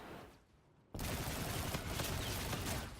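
Automatic weapon fire in a first-person shooter game, starting abruptly after a quieter moment and then running as a loud, dense, unbroken burst of rapid shots up close.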